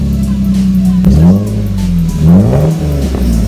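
A Lexus IS300 (2001-2005) with a deleted muffler revs loudly nearby. The exhaust note rises and falls in two sharp blips over a throaty idle.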